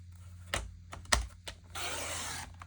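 Paper strips cut for a fall-colors collage with forest finds, giving a few short sharp snips and rustles, then a sustained papery crunching swish near the end, close up with no talking.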